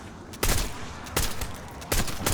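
Gunfire in Call of Duty, with three loud, sharp shots spaced roughly evenly apart over a low, steady background rumble and no speech.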